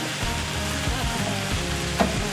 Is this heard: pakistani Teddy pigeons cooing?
no